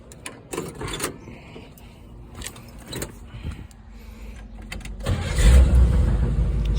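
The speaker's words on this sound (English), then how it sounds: "Let me turn on the car." A 1962 Chevrolet Impala is started up after wiring repairs. Clicks and key jangles come first, then the engine cranks and catches into a loud, steady, close idle rumble.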